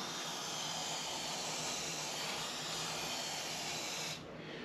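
Chain wax sprayed from an aerosol can onto a bicycle chain at the O-rings makes a steady, close hiss for about four seconds before it cuts off, leaving quieter background noise.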